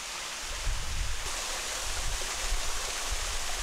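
Gujeol Falls, a waterfall on a winter mountain path near Cheongpyeongsa temple in Chuncheon, gives a steady broadband rush of falling water at moderate distance, with no voices.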